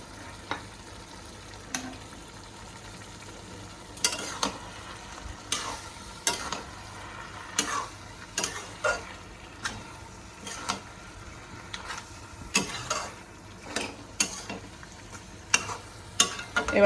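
A fish head and fried moong dal are stirred in a frying pan, giving repeated scraping strokes at an uneven rhythm over a faint, low sizzle, with no voices.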